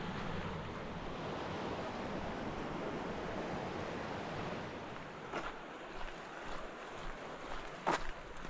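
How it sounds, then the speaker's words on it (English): Idaho river water rushing over a standing wave, a steady broad roar throughout, with a few brief knocks near the end. "There's a wave down here in the river right there"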